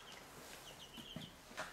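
Chicks in an outdoor coop give faint, high, sparrow-like chirps, a few short peeps scattered over a quiet background with light rustling.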